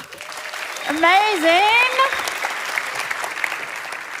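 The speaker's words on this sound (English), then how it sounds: "Give yourself a big clap." The audience at a TEDx Sydney Youth event applauds at the end of the day, a steady wash of clapping from a large crowd while a presenter's voice exclaims over it.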